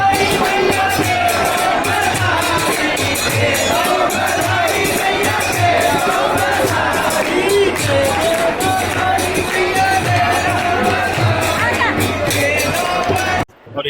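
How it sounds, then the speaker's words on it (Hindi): A large crowd of devotees at a temple festival celebrating a deity's appearance anniversary in Vrindavan, a dense continuous roar of voices, cheers and whoops with a steady rhythmic beat running underneath. "ये आप देखिए, भक्तों की इस प्रकार की भीड़ है, बहुत ही ज़्यादा"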